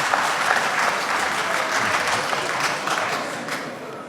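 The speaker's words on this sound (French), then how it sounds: "Je note que cette préoccupation a été particulièrement applaudie par les députés" Deputies in the National Assembly applaud at a formal session opening, a sustained, even round of many hands clapping that fades slightly toward the end.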